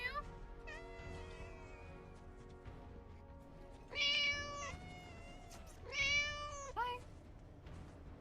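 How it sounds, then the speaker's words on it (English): A cat meows repeatedly, with several drawn-out, insistent cries and two louder wails, close to the microphone, while a person briefly speaks a greeting. "I found a cat as noisy as you."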